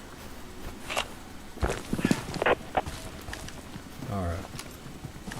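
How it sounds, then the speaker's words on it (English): Footsteps in the video game Deadside, clumping irregularly at mid distance inside a building, mixed with brief speech from a player. "I'm pretty sure all the footsteps I'm hearing are just inside."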